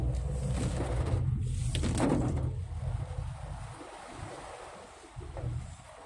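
Heavy rain pours during a drive through traffic on CC Santos St in BF Homes, Parañaque, a steady, dense roar with rumbling low noise and wind-like wash throughout, no one speaking.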